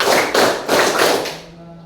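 High school students in an Indonesian classroom clap in unison for a rhythmic clapping game, three or four sharp group claps in quick succession, close and loud, then a short fading pause.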